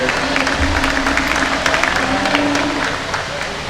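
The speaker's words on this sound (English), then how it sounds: "give them all a big round of applause as they exit the ring" At a winter classic heifer showmanship event, the audience in an arena applauds as exhibitors leave the show ring, with sustained crowd clapping and a murmur of voices, tapering off slightly toward the end.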